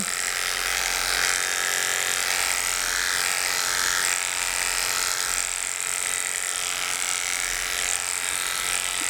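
An electric dog clipper fitted with a 3F blade buzzes steadily and close up as it clips a dog's leg, a continuous high motor whine with no talking.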